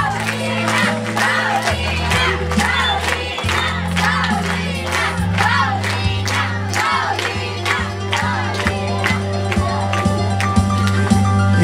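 Loud crowd cheering and whooping honours a queen being crowned at a religious festival in Cacalote, with sustained shouts and rhythmic bursts over a steady musical drone.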